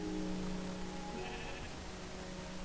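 Sheep bleating in the Minecraft video game, a faint, steady in-game bleat sitting over a constant low background, with no talking.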